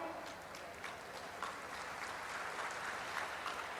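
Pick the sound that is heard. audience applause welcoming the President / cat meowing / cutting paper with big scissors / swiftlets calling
audience applause welcoming the President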